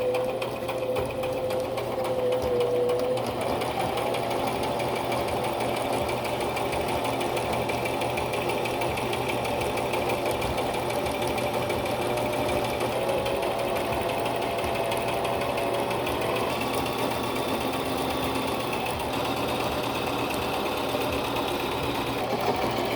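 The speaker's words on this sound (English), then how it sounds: "Now I'm going to head to the sewing machine." A sewing machine runs steadily while stitching a pillow cover for home decor, a continuous close mechanical whir with a slight hum that shifts pitch now and then, with no talking.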